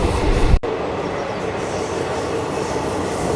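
Train running through Balaramapuram station on the Thiruvananthapuram–Nagercoil line, a steady loud rumble of wheels and carriages heard from close by, with a brief sharp break near the start.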